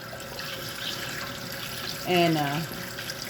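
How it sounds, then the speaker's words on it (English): Water runs from a kitchen faucet into a bowl of eggs sitting in the sink, a steady splashing stream that briefly swells louder near the end, with a voice heard at one point. "I'm cleaning these in the bowl in the sink."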